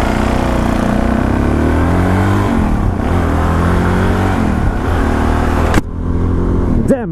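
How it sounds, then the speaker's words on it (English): A motorcycle engine revs loudly while riding, its tone rising and falling through several throttle pulls over a constant roar, before a sharp wind-buffeted burst and a brief drop near the end. "The sound of the bike, man."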